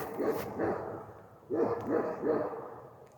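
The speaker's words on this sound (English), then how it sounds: "We got a dog over here that needs some training" A dog barks in a state park campground in Georgia, sending out two clusters of two or three moderately distant barks with short pauses between them.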